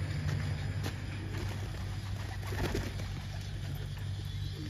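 Low, soft cooing of pigeons at a pigeon loft, a continuous murmur under a steady background hum and occasional faint clicks, fairly close but quiet.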